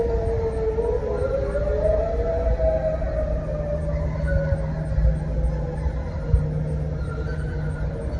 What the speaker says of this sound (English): they test our tornado sirens to make sure that they work